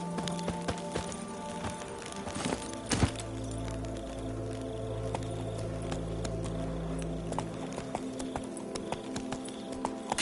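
Roach, a horse in The Witcher game, walks with steady, clear clip-clopping hooves on hard ground, the rhythmic steps close and moderately loud throughout.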